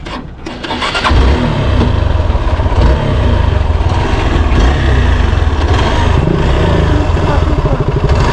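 A Hero Xpulse 200cc motorcycle engine starts up and settles into a loud, close, steady throbbing idle that runs for several seconds, with no talking.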